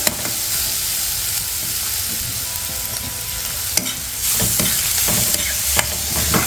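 Upma ingredients with turmeric sautéed in a pan give a steady close sizzle and frying hiss, with occasional scrapes and taps of a spoon stirring, growing slightly louder near the end.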